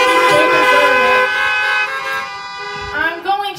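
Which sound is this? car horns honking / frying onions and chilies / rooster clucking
car horns honking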